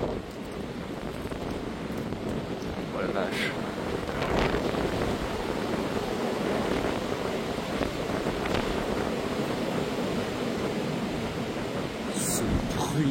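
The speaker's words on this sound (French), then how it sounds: "Bruit de vent infernal" Howling storm wind at night during Storm Floriane, a continuous roaring gusty blast buffeting the microphone with trees thrashing, steady and loud throughout with a brief exclaimed voice.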